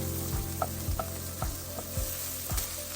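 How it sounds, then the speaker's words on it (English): Onion frying with ginger and garlic paste in oil, a continuous close sizzle over a few seconds with repeated rhythmic scrapes of a utensil mixing the pan. "now you're going to go on to fry your onion. Going with your ginger and garlic paste."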